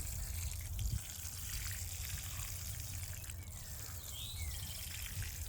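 Water trickles and drains steadily through a freshly watered potted Amethyst Falls wisteria, a close, continuous wash of soft splashing with no pauses.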